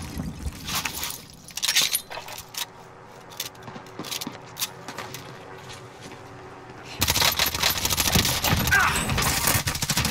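Rapid gunfire and combat clatter from Call of Duty Warzone (Season 5, Grau rifle setup), bursts of shots with metallic clinks, growing denser and louder in the final seconds.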